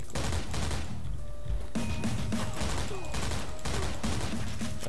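Dense, continuous gunfire from a Foreign Legion: Buckets of Blood battle defending a town and its civilians, with rapid overlapping shots and bursts throughout, loud and steady, with a voice speaking faintly underneath.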